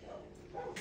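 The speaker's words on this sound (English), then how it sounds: "My dogs just started barking at something" Dogs bark and yip in the background of a card-making session, a short burst heard at moderate distance.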